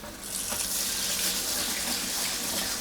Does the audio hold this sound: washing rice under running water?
yes